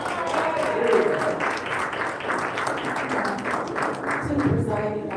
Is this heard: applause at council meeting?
yes